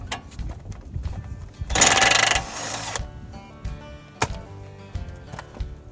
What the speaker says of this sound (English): if you go with an impact, it'll come right off